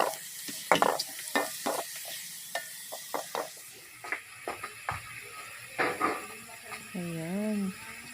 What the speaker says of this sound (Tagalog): Magpiprito ako ng bawang.